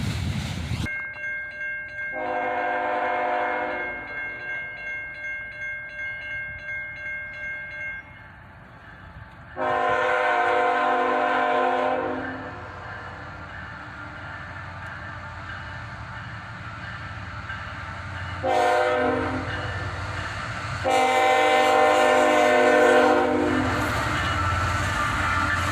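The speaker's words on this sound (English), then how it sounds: "An autorack train, northbound, led by a single ET-44AH." A northbound autorack freight train led by a single ET-44AH locomotive sounds its horn in several long blasts, with the rumble of the passing locomotive and rail cars running beneath.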